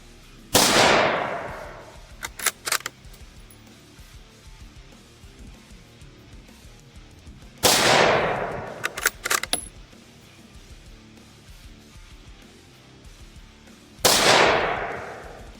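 A Ruger American Predator .223 rifle fires at a range, three sharp, loud shots spaced several seconds apart, each ringing out briefly, with clinking of ejected brass and light handling between them.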